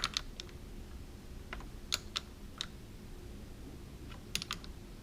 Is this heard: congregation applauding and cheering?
no